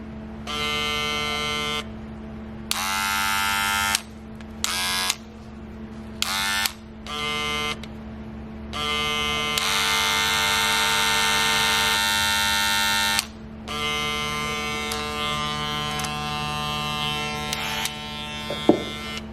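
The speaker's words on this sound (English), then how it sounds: "now let's do a sound check, but with a different clipper next to them, a rotary clipper" A Gamma+ Ergo hair clipper and a rotary clipper buzz loudly in turns, switching on and off in short bursts of steady electric hum before settling into a long continuous drone.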